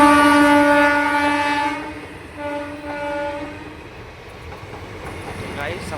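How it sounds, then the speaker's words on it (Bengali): A train horn sounds as a train arrives at Salar station in Murshidabad: one loud, sustained blast, then a shorter second blast, over steady rail rumble and background noise. "সালারের ট্রেন আসছে।"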